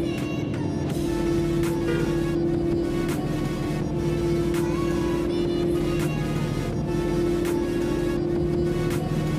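A Volvo 9600 bus cruising at highway speed in top gear in Bus Simulator Indonesia, its engine giving a steady, loud drone with a constant tonal hum throughout, no talking.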